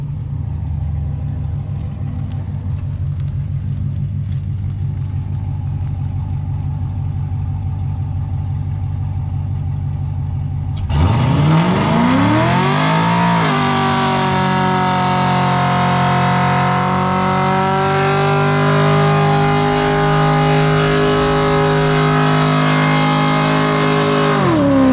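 A Pontiac GTO engine at first idles with a low rumble, then bursts into a loud, sustained burnout rev up to around 7000 RPM. The roar climbs and holds at a high, strained pitch right up close.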